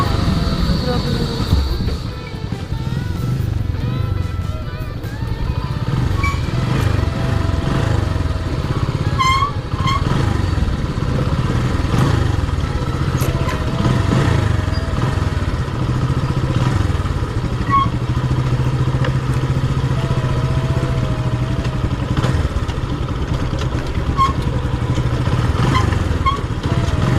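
A motorcycle engine labors steadily while struggling up a steep slope, a continuous loaded drone with rattling clatter throughout, and people talk intermittently over it.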